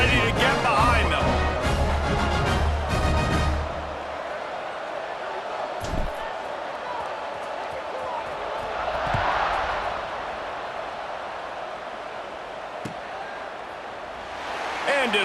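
A stadium crowd roars steadily in EA Sports College Football 26 ahead of a kickoff, a broad continuous roar beneath a commentator's speech, with a few sharp thuds rising above it.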